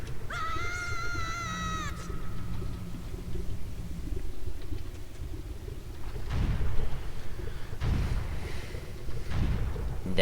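King Dodongo, a gigantic boss monster in Zelda: Ocarina of Time, crumbling down in deep, heavy rumbles that swell in a few booming waves after a brief tonal chime at the start.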